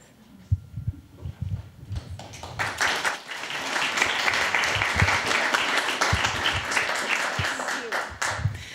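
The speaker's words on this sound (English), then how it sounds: "Can we get one more round of applause for our presenters here?" Applause for presenters at a filmmaking event, starting with scattered low thumps and murmuring before building into a full, sustained round of clapping from the room, with some voices underneath.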